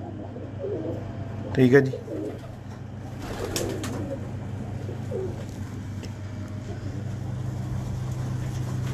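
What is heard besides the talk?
pigeons cooing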